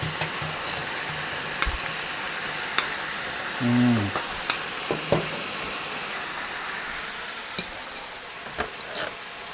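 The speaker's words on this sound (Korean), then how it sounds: "양쪽으로 해서 양념장을 이제 섞어주는 거지" Pork, vegetables and seasoning sauce sizzle steadily in a hot pan while a utensil scrapes and clicks as the contents are stir-fried.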